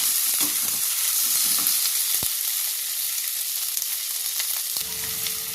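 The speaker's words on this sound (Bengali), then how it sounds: "ক্যাপসিকামও হালকা করে ভাজতে হবে" Capsicum and onion fry in a pan with a steady close sizzle, broken by scraping and clicking from stirring, and no talk.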